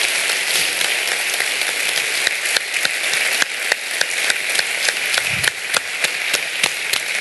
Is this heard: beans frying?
no